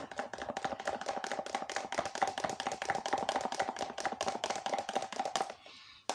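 Egg batter whisked by hand with a spatula for steamed melon bread, a fast, steady run of close tapping strokes in even rhythm that stops just before the end.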